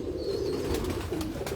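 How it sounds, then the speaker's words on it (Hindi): Pigeons of many kinds kept by a pigeon fancier in Lahore coo softly in a steady low murmur, close by, with faint chirps and a light background hum and no talk. "हर तरह के कबूतर हैं खलीफा साहब, बहुत ही शानदार"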